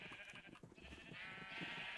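Minecraft sheep bleat in a large sheep farm in a HermitCraft survival game. The faint, overlapping bleats continue steadily under a soft background hum, with no talk.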